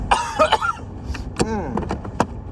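A few harsh coughs and throat sounds burst out close by, short and uneven, with brief pauses between them.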